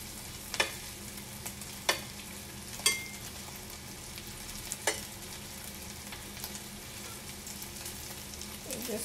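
Meatballs sizzle quietly in a lightly oiled Whiter Craft pan, a steady frying hiss broken by occasional clacks as the pan is shaken and stirred.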